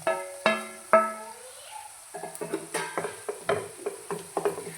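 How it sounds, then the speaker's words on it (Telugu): Tomatoes go into a pan of cooked-down onions for a boondi curry: three ringing metal clanks, then a quick run of scraping spoon taps and stirring against the pan, close and alone. "ఇప్పుడు టమాటాలు వేసుకోవాలి."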